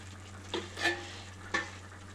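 Curry leaves and salt go into a pan of hot oil for a Korameenu fish curry, giving two short crackling bursts of frying over a low steady hum, with no voices.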